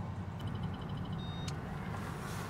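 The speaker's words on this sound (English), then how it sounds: "like that silver van that's going away" A silver van drives off down the road, its engine and tire noise a soft, steady rumble that holds fairly even as it moves away, with a short bright tick partway through.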